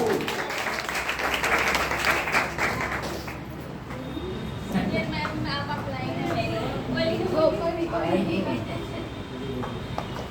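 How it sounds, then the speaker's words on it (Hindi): An audience at an IMC pin achievers celebration claps loudly and steadily for about three seconds. The applause then fades under someone speaking, with scattered claps and chatter continuing faintly behind her. "तो अगेन हमारे सभी अचीवर्स के लिए तालियां होनी चाहिए"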